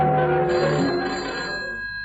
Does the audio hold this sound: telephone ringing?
yes